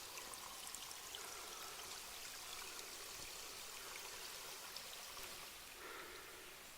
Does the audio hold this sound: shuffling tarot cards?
no